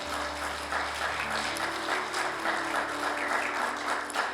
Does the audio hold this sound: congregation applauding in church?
yes